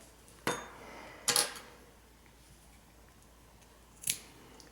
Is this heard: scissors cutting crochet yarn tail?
yes